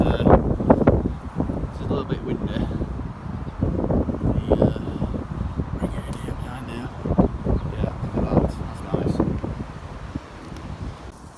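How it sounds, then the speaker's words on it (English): Wind at a woodland camp rumbles and buffets against the microphone in a steady, blustery wash, with people talking throughout. "the wind's stepped in now anyway"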